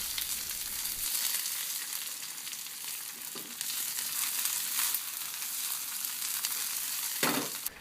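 Spinach cooks in a hot pan, giving a steady, bright sizzle with a few soft stirring scrapes scattered through it. No voices are heard.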